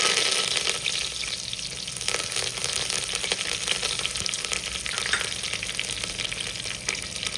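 Loud, continuous sizzling and crackling of curry leaves frying in hot oil, close up, with occasional stirring clatter.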